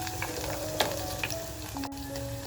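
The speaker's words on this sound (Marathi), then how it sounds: "तर बघा आपल्या काजूच्या बिया अशा छान फ्राय झाल्यात" Cashew nuts frying in hot oil in a clay pot, a soft continuous sizzle with a few light taps and scrapes, faint and close.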